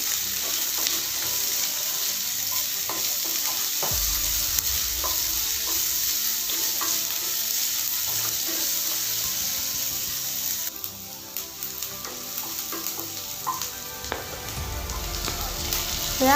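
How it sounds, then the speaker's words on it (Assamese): Onions sizzle steadily in a pan, with occasional scraping and stirring clicks over the continuous hiss of frying, close by. "ৰঙচুৱা নোহোৱালৈকে এইখিনি মই ভাজি থাকিম।"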